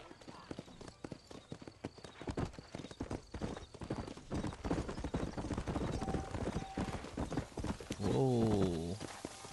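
Horse hooves clip-clop in a steady trot along a dusty trail out of town in the Red Dead Redemption video game, rhythmic and close, ending with a loud neigh, with game voices heard.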